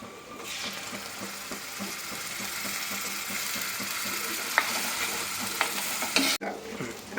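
Ground masala paste for a peppery sardine curry sizzles steadily in a pan, with rhythmic stirring scrapes and a few sharp clicks of a utensil against the pan close by.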